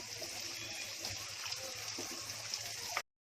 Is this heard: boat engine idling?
no